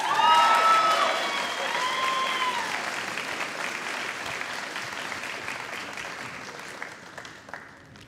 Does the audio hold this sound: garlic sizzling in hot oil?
no